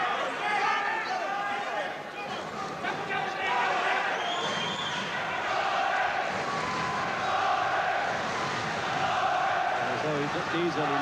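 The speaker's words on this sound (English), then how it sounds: "The whole crowd there giving the McCrory chant" A large boxing crowd at Glenn McCrory's IBF cruiserweight title fight against Patrick Lumumba keeps up a sustained, loud chant for McCrory that fills the arena throughout.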